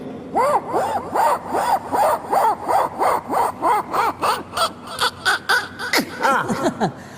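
A voice mimics a saw cutting through an aluminium channel, producing a steady run of about a dozen rhythmic rasping, rising strokes, close and fairly loud, with no other talk.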